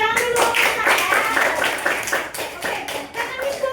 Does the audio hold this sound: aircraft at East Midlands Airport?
no